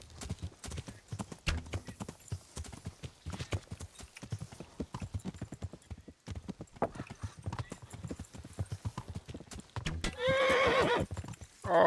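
Hoofbeats of a horse clip-clopping in a video game, with a horse neighing, loud and close, while people talk over much of it.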